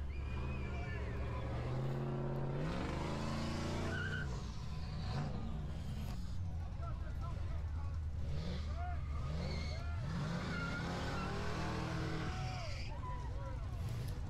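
A loud car engine at the Summernats 34 car festival rumbles and revs continuously on Main Street, rising in pitch in surges, with people talking over it throughout.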